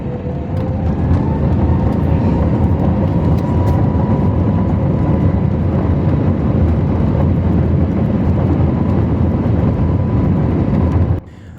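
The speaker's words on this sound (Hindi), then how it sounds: "ये सुनो बल्कि आवाज़ जहाज़ की" A passenger jet's engines roar steadily as the plane accelerates down the runway for takeoff on a trip to Turkey, a loud continuous rumble heard from inside the cabin that cuts off abruptly at the end.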